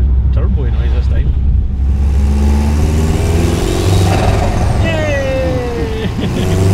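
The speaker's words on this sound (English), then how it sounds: "It's making the turbo noise this time." A Subaru WRX engine with its turbo dump valve deleted and blanked off revs loudly and steadily while a turbo whistle rises and then falls away, with voices talking over it.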